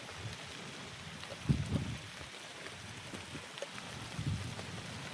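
Steady, faint rain patters on a cotton field in a soft continuous hiss, with a couple of slightly heavier bursts and no voices.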